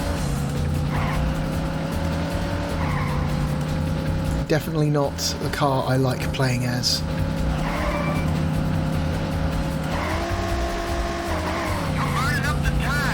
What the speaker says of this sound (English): And it's got horrific wheel spin.